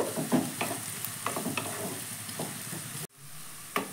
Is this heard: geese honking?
no